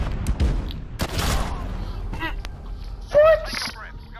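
Shotgun blasts in Call of Duty: Modern Warfare during a 2v2 match, a few sharp bursts spread across the moment, mixed with game effects while players talk excitedly.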